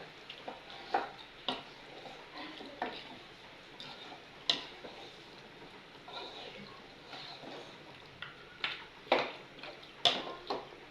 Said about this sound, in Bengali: এখন ভালো করে এটাকে কষিয়ে নেব মাংসটা